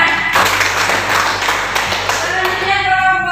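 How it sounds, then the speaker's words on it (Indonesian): Classroom applause from students after a group presentation in a civics lesson, a dense patter of clapping that fills the whole moment and thins out at the end. "Tepuk tangan."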